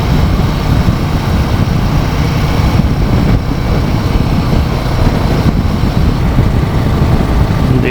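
A motorcycle rides on a mountain highway between Bilaspur and Jispa, making a loud, unbroken roar of engine and wind rush that holds steady throughout with no voices.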